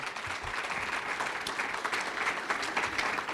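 Audience applause fills an induction ceremony hall, a steady, dense clapping that holds evenly for a few seconds with no voices over it.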